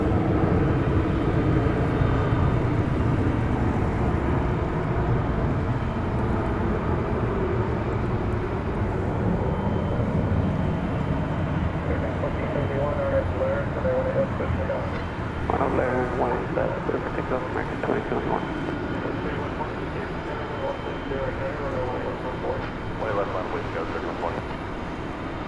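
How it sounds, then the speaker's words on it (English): A Boeing 737-800 airliner on American flight 2071 to Querétaro gives a broad, steady engine roar and rumble at an airport at night, loud and sustained, with a person talking over it. "That looks to be American Flight 2071 off to Querétaro, Mexico, the 737-800."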